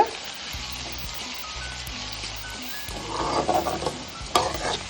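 Asafoetida powder sautés in a pan for drumstick leaf sambar, a steady soft sizzle running throughout with light stirring scrapes that grow a little louder and busier near the end.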